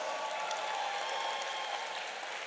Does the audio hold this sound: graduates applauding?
yes